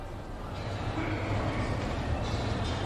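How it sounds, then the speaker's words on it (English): Train station ambience with a steady low rumble of rail cars and a diffuse hiss of the surroundings, constant and moderately faint over a few seconds. "Don dan Jane telah tiba di stasiun kereta api"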